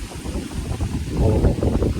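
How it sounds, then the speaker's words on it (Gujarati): Strong wind gusting across an open groundnut field after rain damage, buffeting the microphone in rough, rumbling bursts that swell louder toward the end, with no talking. "પવન લાગે છે"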